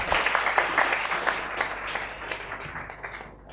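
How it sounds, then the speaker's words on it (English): Audience applause at an international oral quiz contest session, a dense steady clatter of many hands clapping that tapers slightly toward the end, with no talking over it. "let's give them a round of applause"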